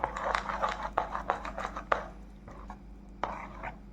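Pitha batter being mixed with sugar, baking powder and soda, a short run of rhythmic scraping and wet stirring strokes, close and fairly loud, with no talking.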